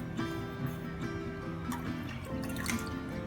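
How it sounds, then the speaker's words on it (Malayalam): Water poured over sugar in a bowl to make sugar syrup for Kerala-style jalebi, a soft, steady trickle and drip running throughout, with a faint tonal hum in the background. "മുങ്ങണ പാകത്തിന് വെള്ളം ഒഴിച്ചു കൊടുക്കാം"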